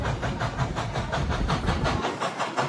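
A steam train at Dollywood amusement park chuffs past in a steady, rhythmic hiss of regular puffs, loud and continuous with rumbling wheels beneath.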